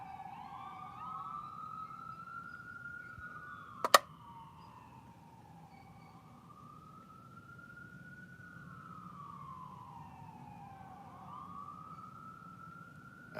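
A distant emergency siren wails steadily up and down, with one sharp click partway through; no one speaks.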